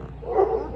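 Dogs barking near the bushes on a mountain golf course at Tres Marías, Mexico: a single short, mid-distance bark that rises briefly over quiet outdoor ambience.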